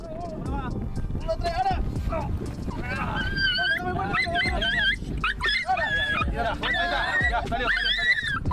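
Puppies trapped in a puddle of tar whimper and yip in repeated high, wavering cries, close and fairly loud, mixed with people talking throughout.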